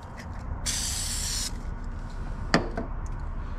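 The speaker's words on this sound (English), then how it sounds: "I'll spray it" Vehicle trim restorer is sprayed from a trigger bottle onto faded trim in one short hissing burst, followed by a sharp tap and faint handling noises in a quiet setting.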